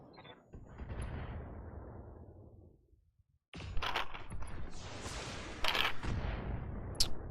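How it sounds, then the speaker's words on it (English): Mech weapons fire in the Battletech video game: heavy mechanical booms and rumbling impacts, a brief gap, then another dense barrage of clanking blasts and crackling hits, with no speech. "Line them up and I'll shoot them down"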